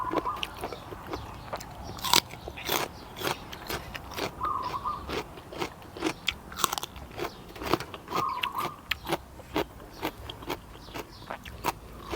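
Crunchy radish being bitten and chewed with Chinese bitter melon, eaten close to the mic; sharp, repeated crunches in an irregular rhythm with no talking.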